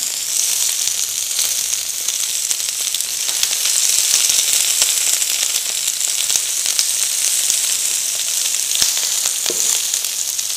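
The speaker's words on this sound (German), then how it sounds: "Braten wir es schön an." Vegetables sizzle and crackle steadily in a hot pan, with occasional stirring clicks and small pops, loud and continuous with no voices.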